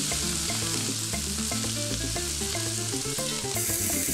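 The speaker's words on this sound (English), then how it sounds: "So a little bit of oil. We're gonna put our pepper and onion in." Peppers and onion sizzle steadily in hot oil in a pan, a loud, continuous close-up frying hiss with small crackles throughout and no talking.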